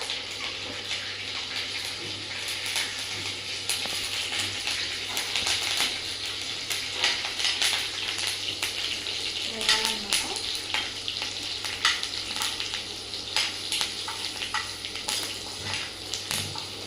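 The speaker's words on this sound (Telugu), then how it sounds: "మనం ఇందులో కరివేపాకు అయితే వేసుకుందామండి." Curry leaves added to hot tempering oil after spluttering mustard seeds for a brinjal chutney, giving a continuous hissing sizzle dotted with sharp pops and crackles, close and fairly loud, with no voices.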